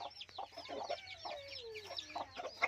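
Hens and their chicks cluck and cheep close by in a backyard flock, soft repeated clucks mixed with high chick peeps, fairly quiet with no talk.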